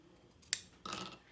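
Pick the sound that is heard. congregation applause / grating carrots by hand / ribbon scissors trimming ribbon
ribbon scissors trimming ribbon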